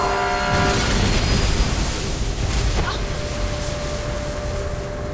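A train rushes past in the Mirror's Edge video game: loud, close broadband rumble and roar with a sustained horn tone early, easing slightly as it passes, with a voice briefly audible underneath.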